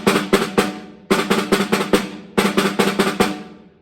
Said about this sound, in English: it is a double stroke roll